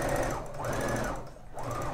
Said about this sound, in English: I'm just going to start sewing.